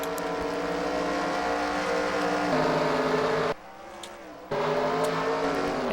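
F1 race cars at the Nurburgring in a racing game, a dense steady engine drone with layered whining harmonics, several cars at once, briefly cutting out before resuming, no talk over it.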